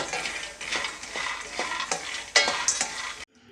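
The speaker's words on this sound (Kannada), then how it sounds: "ಅದಕ್ಕೆ ಒಂದು ಸ್ವಲ್ಪ ಈ ಥರ ಆಗೋ ಥರ ಫ್ರೈ ಮಾಡ್ಕೊಳ್ಳಿ" Peanuts are stirred in a hot pan while roasting for shenga unde, a dry scraping rattle with rhythmic strokes and faint sizzling, close and alone.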